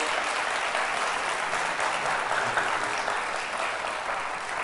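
An audience applauds steadily and loudly, a dense, continuous wash of clapping with no voices on top, holding at an even level throughout.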